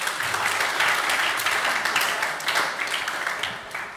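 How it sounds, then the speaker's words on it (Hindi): Steady, dense applause from a room of students at a coaching class, sustained at an even level throughout with slight swells, no speech over it. "दोनों के लिए पहले जोरदार तालियां हो जाए"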